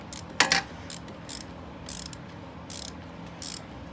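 A ratchet wrench backs a spark plug out of a Ford 5.4 Triton three-valve engine in a Ford Expedition, with short bursts of close, loud clicking separated by pauses.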